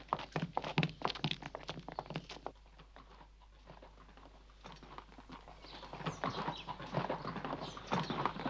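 Hooves clop and thud on soft ground, a quick irregular beat that fades briefly then builds again as several horses move nearby.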